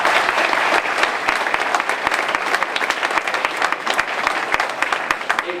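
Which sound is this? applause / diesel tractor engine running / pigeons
applause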